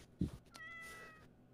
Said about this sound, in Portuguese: É o gatinho aqui de casa.